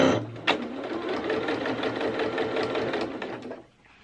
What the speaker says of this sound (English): I'm just going to sew with the edge of my presser foot along the edge of the fabric here